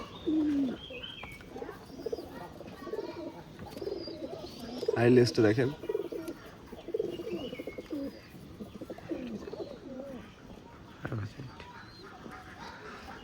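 Pigeons of an old bloodline breed coo softly in the background while someone talks over them, with low, repeated murmuring coos continuing through the speech.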